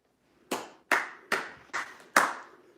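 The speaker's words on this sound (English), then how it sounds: "I'll clap for myself." A lone magician performing live in Las Vegas claps for himself: five slow, evenly spaced, crisp hand claps, close and distinct against near silence.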